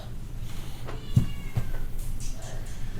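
A cat meows faintly a couple of times in a short burst over a steady low room hum, quiet and somewhat distant.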